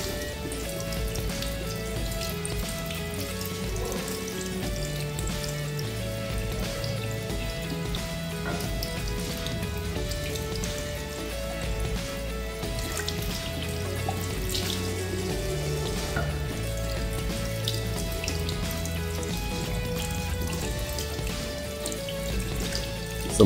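Water runs steadily, splashing and pattering continuously onto an Honor X9b smartphone's screen and body nearby, with no voices.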